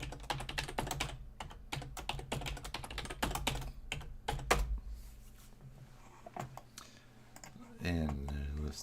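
Rapid computer keyboard typing, close and fairly loud, in clustered bursts of sharp clicks over the first five seconds, then sparser keystrokes, ending with a brief low hum.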